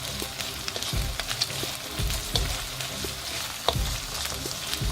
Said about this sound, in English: and some garlic and ginger paste with some sauteing.